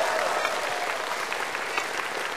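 Studio audience on the Vietnamese quiz show Road to Olympia applauds a young male contestant, a continuous, even burst of many hands clapping at moderate level, with no speech over it.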